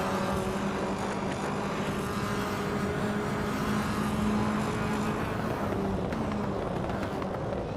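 Race cars including a 2015 Fiat Tipo Competizione and a Mercedes-Benz A 45 AMG in a racing video game, a steady engine drone with sustained tonal whine, moderately quiet and continuous without talk.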